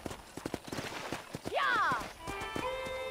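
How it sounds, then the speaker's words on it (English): Hooves clip-clop in a quick rhythm as a horse moves in the western video game Red Dead Redemption, followed by a loud whinny; a voice talks over the hoofbeats. "I picked out a fine horse for you."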